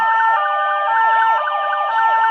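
A Ford Transit tow truck's siren in a Roblox game wails loud and steady, with rapid, regular pitch sweeps cycling throughout, alone and without talk.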